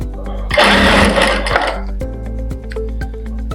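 Close, loud sewing machine stitching boutique-style piping: a brief surge of whirring motor noise, then a steady run of rhythmic needle clicks.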